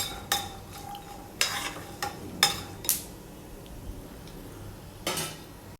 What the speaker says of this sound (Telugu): పల్లీలు యాడ్ చేసిన తర్వాత పల్లీలన్నీ కూడా బాగా లైట్గా ఫ్రై అవ్వాలండి